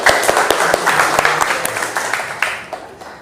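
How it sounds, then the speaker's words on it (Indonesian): High school students in a classroom clap their hands in a loose, uneven patter of sharp individual claps, several close together, with quieter murmuring between them as the clapping thins out. "Tepuk tangan."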